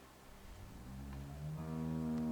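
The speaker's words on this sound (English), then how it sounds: "How do you like that cow, Clint?" A cow in The Walking Dead video game gives a low, drawn-out moo that swells and grows louder over about two seconds, heard fairly close with no talking over it.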